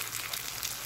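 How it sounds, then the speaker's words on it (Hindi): Garlic and ginger frying in a pan, a soft, steady sizzle of bright crackling, faint and continuous, with no talk. "फिर अदरक डाला है, अब इसे हम भून लेंगे"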